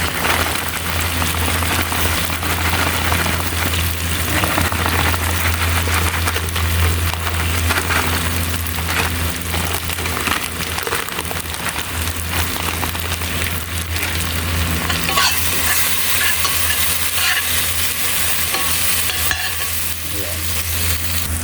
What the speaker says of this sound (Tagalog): nagisa na natin yung ating shrimp